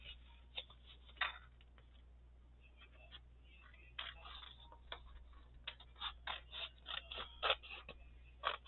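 Scissors trimming paper for a page topper ephemera holder, a series of soft irregular snips and crisp cuts up close, growing busier toward the end in a quiet room.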